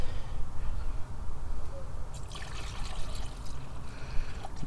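Liquid pouring from a 5-litre can, a continuous close gurgling, trickling wash that stays fairly even throughout, with some brighter splashy detail midway.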